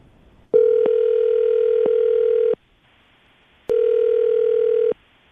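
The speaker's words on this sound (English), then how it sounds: "we're going to try to get her on the phone right now" A telephone tone sounds while a call is placed during a radio show, with two long steady electronic tone bursts separated by a short silence, loud and clean with no talking over them.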